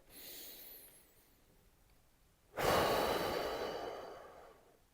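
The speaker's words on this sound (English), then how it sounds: "I like to just take a deep breath." A single deep, full breath taken by a man during a calm talk on emotional regulation, a long airy rush that starts softly and swells after a quiet pause, close and alone.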